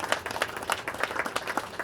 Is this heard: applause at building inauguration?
yes